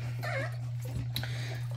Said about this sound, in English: Yeah, she's a really good dog.